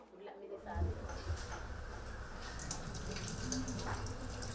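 Tap water runs steadily from a sink faucet as hands are washed with soap and water before a birth, a continuous close splashing with a voice speaking over it.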